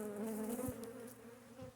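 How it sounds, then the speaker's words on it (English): Honey bees buzz around an open spring hive during a brood-frame inspection, a close, continuous hum with individual bees droning louder as they pass near. "Getting to be a lot of bees."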